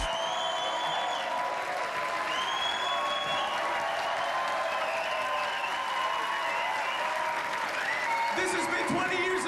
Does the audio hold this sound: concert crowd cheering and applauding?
yes